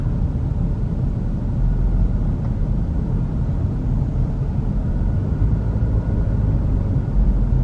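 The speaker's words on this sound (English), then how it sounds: "Definitely a lot of traffic out today." Road traffic on Ocean Boulevard in Myrtle Beach on a summer afternoon: a continuous low rumble of passing cars and engines, steady and moderately loud throughout, with no talking.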